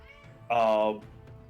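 A cat lets out a single loud, drawn-out meow close by, lasting about half a second, with faint background sound before and after.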